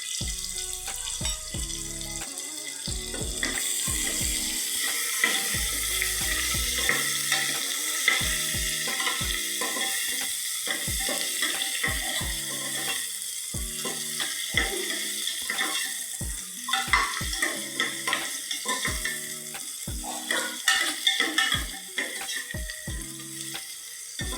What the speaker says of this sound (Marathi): तेल गरम झालं तर याच्यामध्ये आपण एक तेजपत्ता टाकूया आणि एक मोठा कांदा मी बारीक करून घेतलाय आहे तो टाकूया